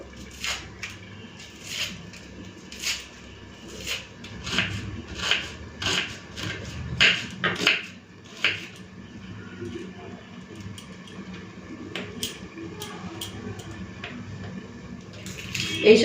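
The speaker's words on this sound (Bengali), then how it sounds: "এখন আমি ডালের জন্য পেঁয়াজ আর রসুনটা কেটে নেব" A knife chops onion and garlic on a cutting board for dal, giving a run of sharp, fairly regular taps that grow sparser and quieter toward the end.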